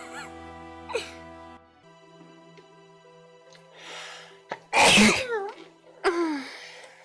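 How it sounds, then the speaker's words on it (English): One loud, explosive sneeze bursts out after a few soft sniffs and breaths, followed by a short exhale, with quiet Final Fantasy 7 game music humming in the background. "Ugh, I have to sneeze,"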